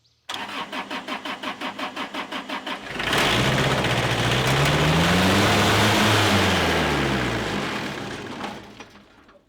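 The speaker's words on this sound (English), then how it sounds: "Let's turn it on and we'll see if it turns off, and we'll see if this solenoid installation is successful." The diesel engine on a Wood-Mizer LT sawmill cranks with a rhythmic starter chug, catches and runs loud and steady for several seconds, then shuts off and winds down to silence.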